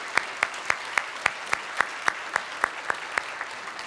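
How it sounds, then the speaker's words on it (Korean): Members of a church congregation applaud to welcome first-time visitors during a Sunday worship service. The claps are steady and evenly spaced, with a faint murmur of voices underneath. "우리 박수로 환영합니다"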